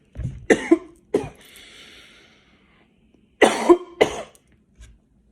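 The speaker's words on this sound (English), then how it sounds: "I keep coughing." Several harsh coughs from a person recovering from illness, close to the microphone: a pair of coughs, a pause, then two more in quick succession.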